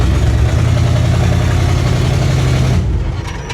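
Engine of a 1970 International D1000 truck, long abandoned, idles with a deep, rough rumble close by, then the revs sag and the sound drops away near the end.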